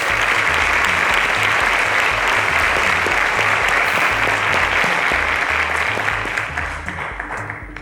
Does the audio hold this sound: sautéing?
no